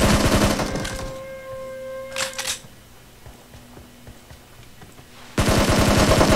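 Gunfire in the PUBG Mobile video game during a squad and solo custom room match: loud dense bursts of automatic fire at the start and again at the end, with a quieter gap between holding a brief sharp burst.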